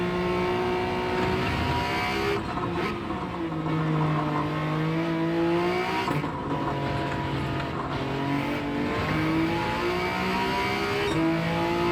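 A lightweight, high power-to-weight car engine revs hard and accelerates through rising and falling gear pulls, loud and close throughout with no talking.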